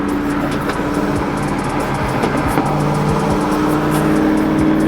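A 2021 Mercedes-AMG E53 coupe accelerates on a road with light traffic, its engine a steady, loud, continuous drone heard from inside the car throughout, with no talking.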